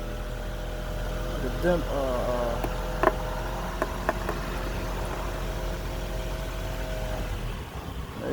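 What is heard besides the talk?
Honda Accord engine driving up onto oil-change ramps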